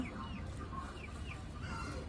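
Several chickens clucking and cackling intermittently, soft and somewhat distant over a low background rumble.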